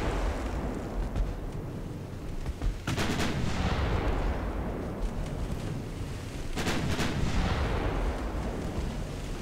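Naval guns boom in the Ultimate Admiral Dreadnoughts warship game, two loud broadband blasts about four seconds apart over a steady rumble of wind and sea, with crackling decay after each shot.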